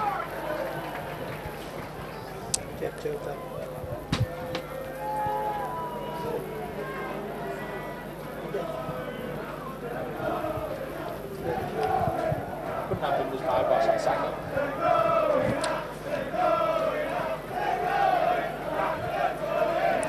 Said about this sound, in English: the crowd's still enjoying this game, and yeah, there's plenty of shouting going on, and Sinfield comes in for yet another kick